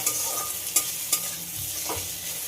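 Onion, grated ginger and chopped tomato sizzle in a pan as they are sautéed for masoor dal, with a few distinct spoon clinks and scrapes over a soft frying hiss, close and without speech.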